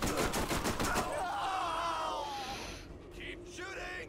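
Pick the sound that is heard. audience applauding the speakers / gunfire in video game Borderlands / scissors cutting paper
gunfire in video game Borderlands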